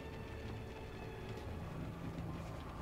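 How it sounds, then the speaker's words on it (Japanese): A train rumbles steadily in the horror video game Alan Wake, a continuous low, dense roar with a faint metallic hiss that holds level throughout, with no talking over it. "あれ、列車か、あれ。 列車か。"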